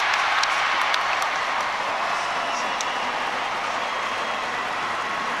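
A packed stadium crowd roars steadily as Mo Farah wins the 1500 m, a dense, loud, unbroken wash of cheering and clapping.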